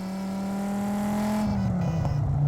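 A 568 wheel-horsepower Dodge Viper SRT-10 engine revs up steadily under hard acceleration, pitch climbing under load before a shift into third, close and loud.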